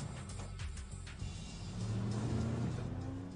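Peugeot 206 driving with lights off and accelerating away from pursuing gendarmes at night, engine note climbing steadily in pitch and loudness, heard from a following vehicle with no talk.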